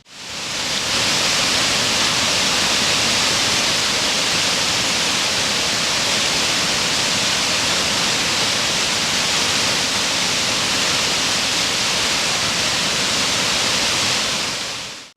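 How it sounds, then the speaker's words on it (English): Water pours out of the spillway of Lock 19 on the canal beside the Potomac River near Great Falls, Maryland, a loud, continuous rushing roar that stays steady from start to finish with no voices. "This is the water spilling out of the spillway for Lock 19."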